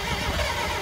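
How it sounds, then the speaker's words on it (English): An engine cranking as the ignition key is turned, a loud, close, rumbling churn filling a brief moment with no voices. "Then we come over here, crank the key."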